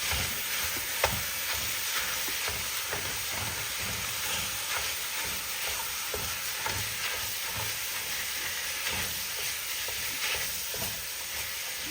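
Meat frying in a pan with onions and green peppers for homemade goulash, a steady close sizzle broken by frequent scraping and stirring clicks throughout.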